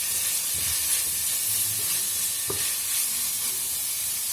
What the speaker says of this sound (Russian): Ну вот оно тут шипит